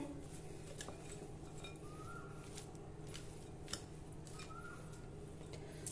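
Spoon scraping and clinking against a dish while raw mango rice with its tempering is stirred together, a steady series of small clicks and scrapes close by with no talking.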